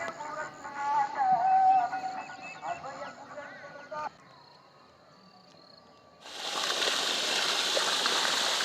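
Someone talks at first, then a steady, loud rush of water pumped by motor from a newly dug well into a farm field starts and continues without a break.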